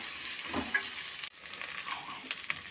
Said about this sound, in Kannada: ಇದೇ ಎಣ್ಣೆಲಿ ಸ್ವಲ್ಪ ಚೆನ್ನಾಗಿ ಫ್ರೈ ಮಾಡ್ಕೊಳ್ಳೋಣ.